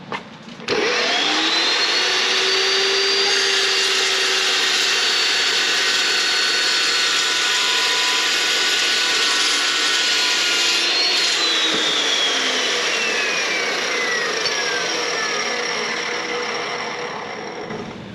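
A power tool cuts steel while a Harbor Freight metal brake is being modified, a loud continuous high-pitched whine and grinding roar that holds steady for the full length and then tapers slightly at the end.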